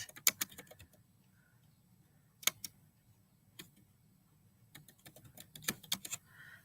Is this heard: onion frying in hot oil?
no